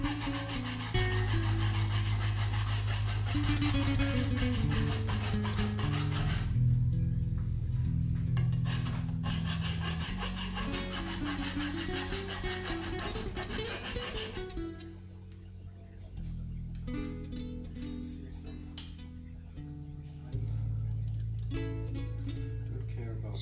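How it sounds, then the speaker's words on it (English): Steel file rasping back and forth over a tipped hand plane blade, working the soft blade body and skipping over the hardened tip, close, rhythmic scraping strokes continuing throughout with a steady musical bed underneath. "Only at the soft part of the blade body I can remove material with the file."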